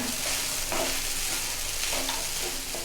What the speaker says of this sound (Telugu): చూడండి అంతా బాగా కలిపేసాను.